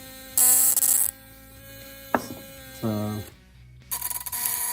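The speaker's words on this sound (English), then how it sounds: "You have to adjust this to get it vibrating just right so it sounds like a bumblebee." Ford Model T ignition coils on test give off bursts of harsh electrical buzzing, set apart by shorter clicks and tones against a faint background hum.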